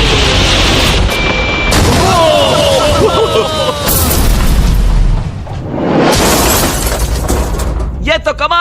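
Lamborghini being blown up, heavy booming blasts and shattering debris crashing in repeated bursts, loud and close amid excited shouting voices.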